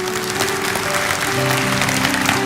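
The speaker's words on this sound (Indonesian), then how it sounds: "kasih tepuk tangan untuk Tuhan Yesus" A church congregation claps together during a sermon, dense continuous applause with a sustained musical tone running underneath.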